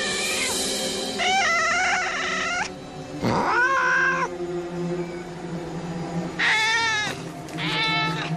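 A cat meows repeatedly in long, drawn-out wails, some rising and falling like a caterwaul, loud and close with brief pauses between calls.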